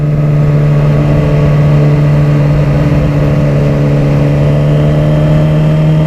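A motorcycle engine pulls hard in second gear through a corner, a loud, close, steady droning hum with a strong low tone throughout and no talking.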